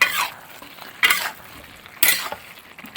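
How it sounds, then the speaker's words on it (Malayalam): A Kerala-style beef curry being stirred in a pan gives three sharp, evenly spaced scraping strokes about a second apart, each trailing off into a soft sizzle, heard close and clear. "ഇനി എന്നാൽ നന്നായിട്ടൊന്ന് ഇളക്കുക"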